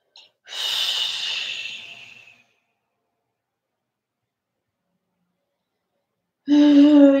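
Deep breathing during a yin yoga session: one long, close, audible exhale, then several seconds of silence before another breath begins, with no talking.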